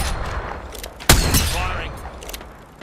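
A single loud, close gunshot sounds in a shooter video game over background game noise, then rings out and fades.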